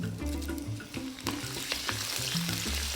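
Loud crackling sizzle of curry leaves frying in hot oil in a wok, with frequent scrapes and knocks of a spatula stirring, at a trade show cooking demo.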